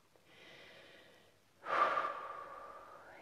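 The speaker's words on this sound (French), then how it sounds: "Prends quelques respirations." Slow, deep breathing during a guided meditation: a soft inhale followed by a longer, louder airy exhale, close and quiet with no other sound.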